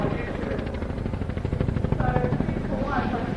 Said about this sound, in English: the aircraft transition from relatively high speed into the hover very rapidly by presenting those massive rotor blades to the oncoming airflow